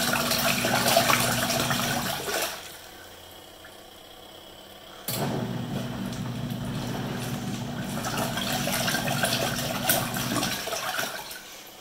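A tiny portable washer-dryer with no plumbing hookup, on a 6-minute wash, churns clothes in water with a low motor hum and sloshing. The hum cuts out briefly, leaving a quieter pause, then restarts and runs steadily again.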